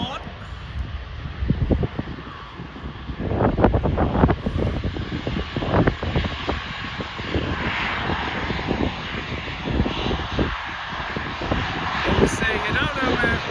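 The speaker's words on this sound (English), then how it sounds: "There's far too many EasyJet planes coming in and out." An EasyJet airliner comes in at Manchester Airport, a steady jet engine roar building and holding, mixed with gusty wind buffeting the microphone.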